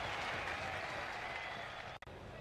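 A Test match cricket crowd in Australia, Australia versus Pakistan in 1995-96, applauds steadily and broadly for the full stretch, a dense wash of clapping that dips briefly near the end.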